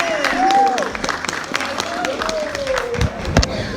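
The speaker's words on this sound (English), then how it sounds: "Round of applause, Miss Stacey McBride" Audience applause welcoming a doll designer as special guest at a Black dolls festival show and sale, a steady wash of clapping with voices and cheers rising over it throughout.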